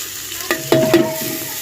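Vegetables are stirred and fried in a pan with tomatoes and green chillies, giving a soft steady sizzle punctuated by a few quick scraping strokes of the spoon against the pan, close and brief.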